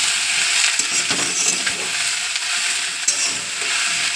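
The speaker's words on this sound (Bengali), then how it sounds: "তো চলো সোয়াবিনটা ভেজে নিই।" Soybean chunks fry in hot oil in a pan, giving a steady loud sizzle broken by the scrape and clatter of stirring, with a few sharp clinks of the utensil against the pan.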